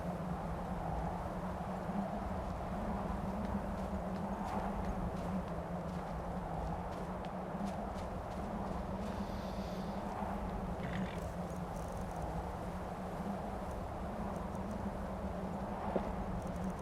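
Horse hooves clip-clopping on the ground in the Skyrim video game, a steady, faint, continuous rhythm of footfalls under a constant ambient background.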